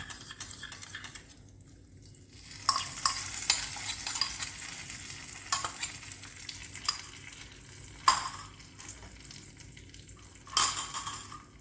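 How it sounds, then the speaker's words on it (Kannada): Semolina, baking soda and curd being stirred together for rava idli batter, giving soft scraping and mixing sounds with a few louder clinks of a spoon against the bowl, close and alone. "ನಾನು 3 ಲೋಟ ರವೆ ತೊಗೊಂಡಿದ್ದೀನಿ, 1/4 ಟೀ ಸ್ಪೂನಷ್ಟು ಸೋಡಾ ತೊಗೊಂಡಿದ್ದೀನಿ, ಮತ್ತು ಅದೇ ಕಪ್ಪಲ್ಲಿ ಅರ್ಧ ಲೋಟ ಮೊಸರು ತೊಗೊಂಡು ಈ ಥರ ಮಿಕ್ಸ್ ಮಾಡಿಬಿಟ್ಟು ಇದಕ್ಕೆ ಹಾಕಿ"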